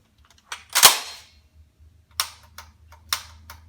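A firearm's mechanism worked during a function check before dove hunting, with a few sharp, close mechanical clicks and snaps, one louder clack followed by lighter ticks, in near silence.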